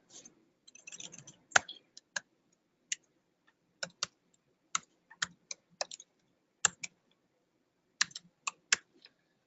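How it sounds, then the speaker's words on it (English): Typing on a computer keyboard while configuring a server connection, heard as scattered sharp key clicks in short bursts and single taps, close and fairly quiet, with no talking. "I'm just going to type it out again."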